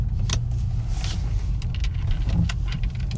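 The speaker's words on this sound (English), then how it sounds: "I'm going to park the vehicle back in the garage" A 10th-generation Honda Accord eases into a garage at low speed, with a soft engine hum, faint tyre and suspension creaks and a few light clicks and rattles up close.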